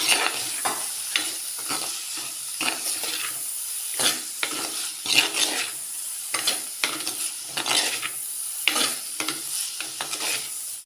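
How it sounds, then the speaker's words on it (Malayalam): Ginger, green chillies and curry leaves being sautéed in a pan for chicken curry, loud repeated scrapes of a spatula stirring in uneven rhythm over a constant close sizzle. "ഇത്രയൊക്കെ നന്നായിട്ട് വഴറ്റിയെടുക്കാം."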